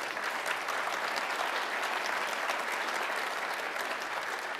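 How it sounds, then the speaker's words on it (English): Applause from a conference keynote audience, an even wash of many hands clapping, moderately distant and steady from start to finish without speech. "So give it a round of applause."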